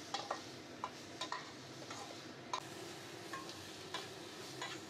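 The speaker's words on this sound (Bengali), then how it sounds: "সমস্তটাকে একটা খুন্তির সাহায্যে ভালো করে নেড়ে চেড়ে ভেজে নিতে হবে।" Spices with salt are stirred and fried in a pan with a metal spatula, giving soft sizzling under a series of irregular scraping strokes, faint and close, with no voices.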